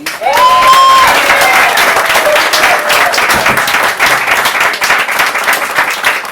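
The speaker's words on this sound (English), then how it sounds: "Can we give her one more round of applause?" A small audience at an open-mic night applauds, loud sustained clapping mixed with a few cheers, close and continuous throughout.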